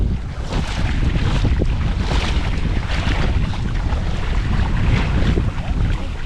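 Strong wind buffets a boat on open water, a steady loud roar of gusts and microphone wind noise with waves sloshing underneath throughout.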